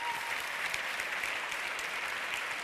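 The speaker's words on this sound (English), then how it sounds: "Please give a big round of applause to all 3 of them as well." An audience at the LUX Audience Award film ceremony gives a steady, dense round of applause, many hands clapping evenly throughout at moderate volume with no voices standing out.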